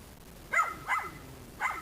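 A dog named Benji, still wary of people, lets out three short, sharp barks spaced about a third of a second apart, at moderate distance over a quiet background.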